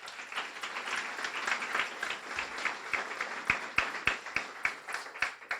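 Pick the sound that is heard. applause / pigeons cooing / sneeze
applause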